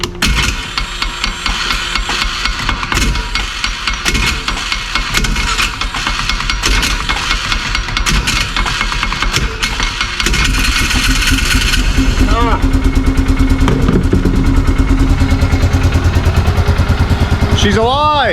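A starter cranks an engine loudly and steadily while being tapped. The engine then catches and settles into a loud, even idle, recorded up close.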